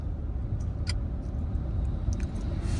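Steady low rumble of a car driving on a highway, with road and engine noise holding at a constant level and a few brief clicks on top, no clear rise in pitch.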